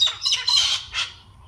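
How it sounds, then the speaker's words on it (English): A bird lets out a close, harsh squawk of three or four rough bursts over about a second, with a faint low hum underneath. "Which one's squawking back at him?"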